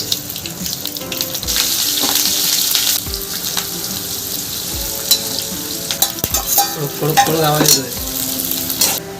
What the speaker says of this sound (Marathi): आता हिला फोडणी दिली जाणार आहे